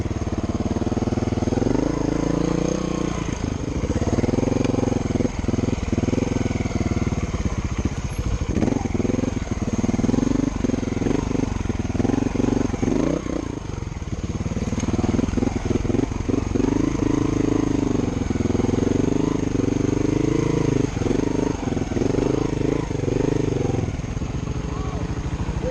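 Trials motorcycle engine running at a motorcycle trials competition in Wyoming, a steady mid-pitched idle and rev that holds loud and close throughout while people talk over it.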